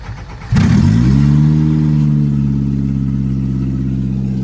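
A Suzuki car fitted with a Honda B18C Type R engine, restored after two years off the road, cranks and fires up. It catches sharply, then settles into a loud, steady, close idle with no one speaking.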